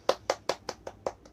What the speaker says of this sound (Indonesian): Kita lakukan tepuk semangat terlebih dahulu.